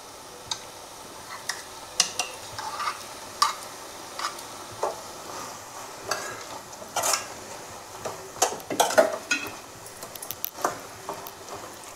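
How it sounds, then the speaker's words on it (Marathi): A spoon works yogurt into chicken in a pot for Hyderabadi dum biryani, making soft wet squelches and scattered light clinks against the metal. The sounds are sparse and fairly quiet, with no speech. "आता हे छानपैकी मिक्स करून घेऊया।"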